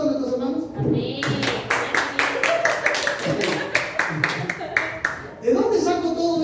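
Church congregation giving applause, a burst of quick clustered claps that swells through the middle, with people talking before and after it.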